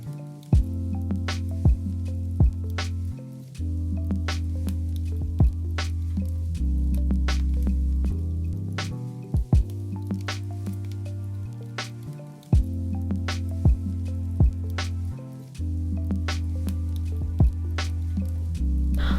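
A blender whirs through a drink for a weight-loss meal, its motor a loud steady hum that shifts pitch in several stages with brief pauses and clicks between runs.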